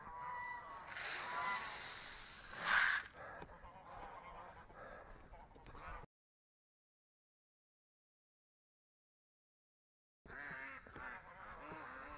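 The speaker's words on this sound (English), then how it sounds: "the ducks are quacking like crazy" Waterfowl honk and quack loudly in a noisy, overlapping flurry, then the sound cuts out into silence before resuming.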